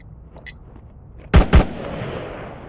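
Two sharp, loud single shots from a gun in the Onward VR shooter, fired about a quarter second apart, with a lingering reverberant tail after a quiet lead-in.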